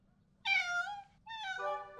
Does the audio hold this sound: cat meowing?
yes